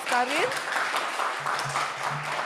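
Audience applause after a guest lecture on engineering ethics and sustainable development, a dense steady clatter of clapping with a voice speaking briefly over its start.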